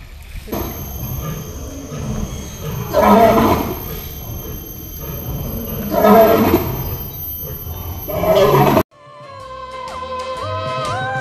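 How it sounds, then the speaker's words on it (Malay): Female and male lions roar, giving two loud, swelling roars a few seconds apart over a steady background hum. Music takes over at the end. "kita orang dapat dengar singa betina dengan singa jantan punya suara"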